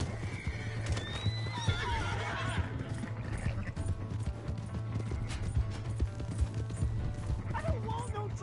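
A horse in the video game Red Dead Redemption 2 whinnies loudly and its hooves clip-clop steadily, with game noise and voices talking over it.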